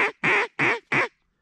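Four loud, nasal quacks come in an even rhythm, close and clear, from a redhead duck on an icy hunting spot, with no talk between them.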